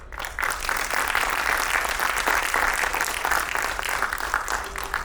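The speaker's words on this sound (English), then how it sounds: "let's give a round of applause and welcome the real stars of the show" Dense audience applause at a school annual day show, a steady loud wash of many hands clapping throughout with no voices standing out.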